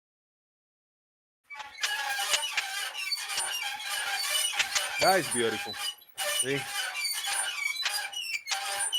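Squeaky Earth, a squeaky sound effect played during a Discord live stream, gives repeated high squeaks and squeals over dense, busy noise, with a person briefly talking partway through.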